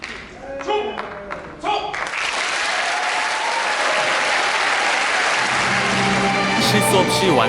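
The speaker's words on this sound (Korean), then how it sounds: "관객들의 호응과 환호는 의장대의 사기를 한껏 드높여줍니다" A crowd applauds and cheers loudly for an honor guard performance, with dense, sustained clapping that swells after a brief start and holds steady to the end, while a voice narrates over the opening.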